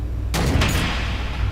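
Missiles firing in Batman: The Enemy Within, a sudden loud burst with two quick close blasts over a low steady rumble, cut short within a second.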